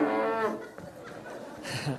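A bull being released at a rodeo-style show lets out a low, brief moo near the start, followed by scuffling and faint background noise.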